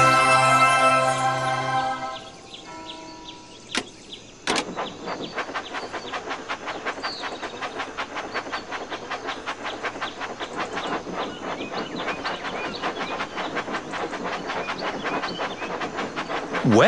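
Steady clickety-clack of a Thomas engine rolling along a track in the Thomas & Friends Magical Tracks video game, its rapid rhythmic wheel clicks running continuously after a brief musical intro, with no talking.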